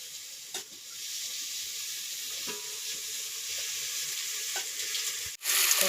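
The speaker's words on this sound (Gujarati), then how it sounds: "હવે એમાં તેલ નાખીશું" Oil sizzles in a pot on a stove in a steady, close hiss, with a few faint clicks and a sharp knock before it grows louder at the very end.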